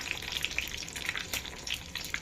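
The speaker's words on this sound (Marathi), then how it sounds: "ती तडतडू द्यायची आहे आणि ही फोडणी गरम गरमच कुकरमध्ये ॲड करायची आहे" Whole spices crackling in hot oil as a tempering for palak sambar, with sharp scattered pops and sizzle over a steady hiss, close and moderately loud.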